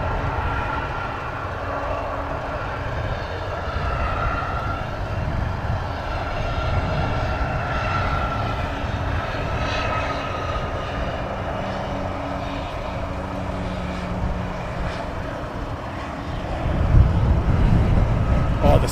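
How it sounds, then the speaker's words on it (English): A Ryanair airliner taxis at Luton Airport, its jet engines a steady low rumbling roar with a faint whine, heard at a distance over outdoor wind and ambient noise that swells slightly near the end. "Do have a Ryanair taxi down as well."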